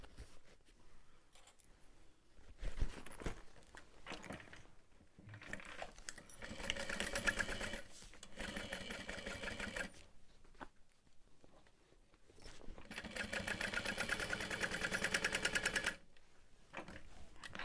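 A sewing machine stitching a 3/8 inch seam on a backpack, running in two long buzzing bursts with short pauses and a softer stretch between them, close and steady, with no voices.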